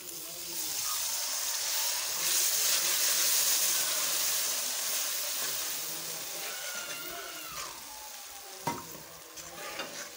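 Chilies and mixed vegetables stir-fried in a pan make a loud, continuous sizzle with shifting hiss as they are stirred, plus a few sharp utensil knocks near the end; little or no talking.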